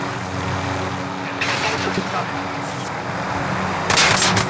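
A helicopter in the Call of Duty video game drones steadily throughout in a low, continuous hum, overlaid by sharp bursts of gunfire and heavier shots toward the end.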